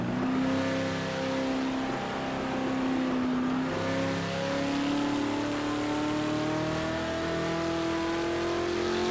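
Race car engine in the Project Motor Racing video game, GT Icons pack, a loud, continuous whine rising and dipping through gear changes as the car brakes and powers out of a corner.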